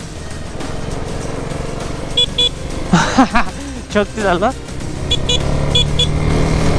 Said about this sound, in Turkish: Scooter kornası gibi.